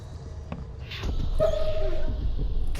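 A puppy in the video game The Sinking City gives a short whimpering whine, fairly close and clear, over a quiet game ambience with a few soft clicks.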